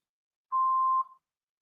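An answering machine gives a single clean electronic beep at a steady mid pitch, lasting about half a second, clear and alone against silence.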